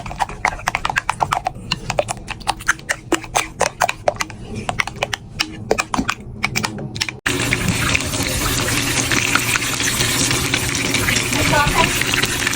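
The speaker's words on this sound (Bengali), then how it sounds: "বেগুনি ভাজা হচ্ছে, সুন্দর বেগুনি ভাজা হচ্ছে" Eggplant fritters (beguni) frying in hot oil for an iftar spread crackle and pop in quick irregular bursts, then settle into a dense, loud, continuous sizzle.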